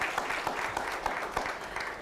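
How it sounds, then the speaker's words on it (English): Audience applause at a panel discussion on heritage brands, a dense steady patter of clapping from a crowd, brief and moderately loud. "I think that deserves a round of applause, ladies and gentlemen."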